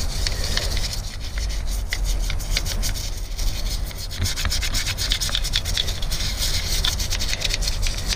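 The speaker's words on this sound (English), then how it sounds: "Now this is just a nylon brush I'm using." A nylon brush scrubs a degreaser-soaked surface in a steady, loud, close bristly rasp that runs continuously with quick repeated strokes, no talking.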